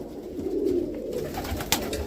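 A pigeon coos softly in a breeding loft, a low murmuring call with a brief sharper note near the end.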